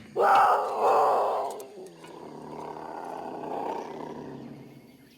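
A genetically altered jaguar gives one loud, close roar that breaks off after about two seconds into a long, rumbling growl that gradually fades.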